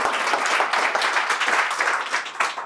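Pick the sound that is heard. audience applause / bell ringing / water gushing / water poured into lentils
audience applause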